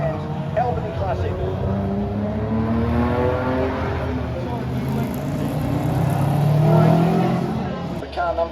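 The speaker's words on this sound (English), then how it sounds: "I can hear the little mini screaming as he heads up towards the top end of town." A little Mini historic touring car screams its engine at high revs along the Albany Classic street circuit, a loud, sustained mechanical howl that swells as it pushes on, heard beneath a commentator's talk.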